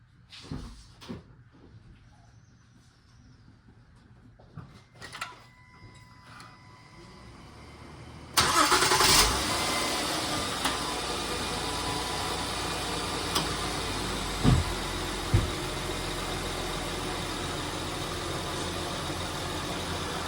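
A few faint clicks and knocks, then an already warm Honda engine cranks and catches after an oil change, settling into a steady idle rumble that continues to the end.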